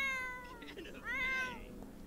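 A kitty in The Sims 4 meows twice in quick succession, the second call longer and rising, fairly close and clear over a faint game background with no talk.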